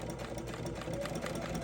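Sewing machine running steadily while stitching boning channels on a corset, a continuous mechanical whir with rapid needle rhythm and no pauses.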